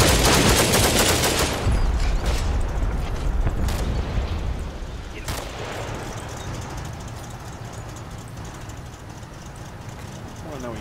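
Gunfire in the WWII tactical video game Combat Mission: Battle for Normandy, a dense burst of automatic fire at first that thins into scattered sharp shots over a continuous rumbling battle backdrop.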